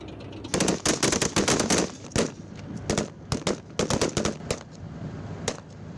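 Rapid bursts of gunfire from a BMP infantry combat vehicle giving fire support during an Indian Army military demonstration, loud clustered volleys with short gaps, no talk.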